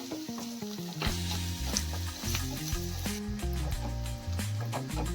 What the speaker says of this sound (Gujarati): સતત હલાવતા રહીશું અને બધું મિક્સ કરી લઈશું